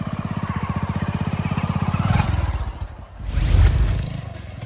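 A motorcycle engine runs close by with a rapid, even putter for about two seconds, then briefly dips and swells in a louder revving burst before settling back to a steady idle.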